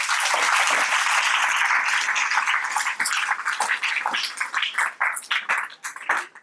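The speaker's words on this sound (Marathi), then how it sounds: "जोरदार टाळ्या होऊन जाऊ दे" Audience applause breaks out at the close of a speech, loud and dense at first, then thinning into scattered, uneven claps as it fades.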